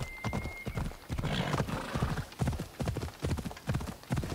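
A horse galloping in the Assassin's Creed Odyssey video game, rapid rhythmic hoofbeats thudding steadily and close, with a brief whinny near the start and no talking.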